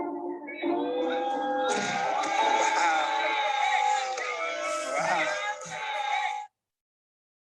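A basketball arena crowd jeers at a free-throw shooter, a sustained roar of booing and yelling voices that holds steady for several seconds before cutting off abruptly.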